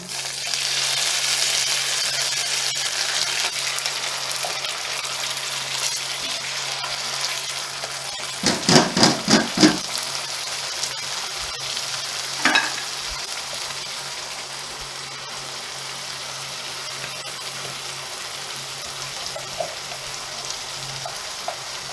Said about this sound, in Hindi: अब गोश्त डालने लगे।